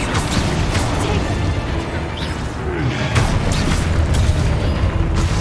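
Spell blasts erupt in Hogwarts Legacy, a dense, loud run of booming crashes and bursts with a steady rumbling wash throughout, no clear pauses between the impacts.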